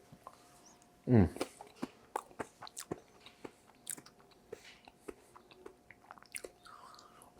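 Someone chewing a bite of Parmesan and garlic stuffed mushroom, a loud crunchy bite near the start followed by softer, repeated close-up mastication clicks and smacks over a quiet background.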